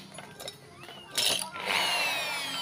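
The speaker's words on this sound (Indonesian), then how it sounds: "Sekarang kita bor." A close power drill starts up and whines steadily into a broken aluminum engine crankcase, after some brief clinks and handling noises.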